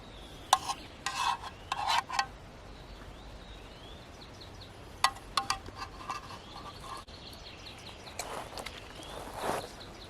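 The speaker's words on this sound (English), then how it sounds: "then I'll show you what you do with your pans to try to clean them out." Cooking pans used over solid fuel tablets being scrubbed clean, heard as close, intermittent bursts of rough rasping and rubbing separated by quiet pauses, with no talking.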